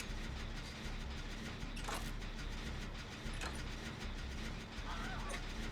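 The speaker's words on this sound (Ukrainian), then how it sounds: "Не будемо витрачати час, одразу робимо двигун." A generator being repaired in the Dead by Daylight game, a steady mechanical churning and rattling with occasional clanks, loud and continuous throughout.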